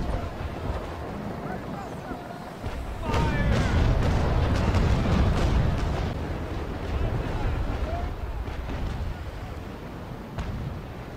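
Heavy naval cannon fire in the age-of-sail game Naval Action: after a quieter stretch, a dense run of booming broadside shots and rumbling blasts begins and continues loud and sustained, mixed with wind and water noise.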